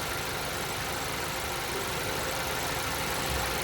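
A car engine held at a steady raised speed of about 2,500 RPM with all electronics off, a constant even drone during a battery and alternator test, with no talk.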